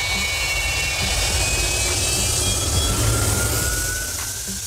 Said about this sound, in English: The Antonov An-124 Ruslan is the second largest cargo aircraft in the world after the AN-225.